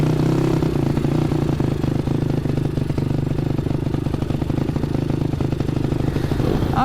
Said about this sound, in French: comme ça tu chauffes un peu le moteur